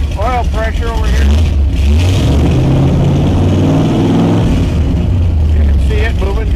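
A 1967 Shelby GT500 with a 428 V8 and four-speed runs steadily and loudly close by, a deep continuous rumble throughout, with a person talking over it at the start and end.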